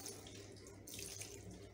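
Shampoo water poured over an English Angora rabbit during a bath, a steady close splashing flow of water for under two seconds, with no voices.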